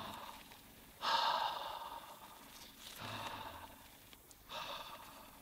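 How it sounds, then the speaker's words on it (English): A person breathes slowly and audibly, voicing the breath as a paper puppet's breathing, with several drawn-out breaths and soft sighs spaced a second or more apart, close and fairly quiet. "make it a vocalized breath so you can hear it"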